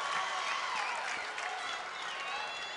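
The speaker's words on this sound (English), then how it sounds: "The crowd is going wild." A crowd at a college gymnastics meet cheers and applauds, a dense sustained wash of clapping and shouting heard from a distance, steady and fairly faint.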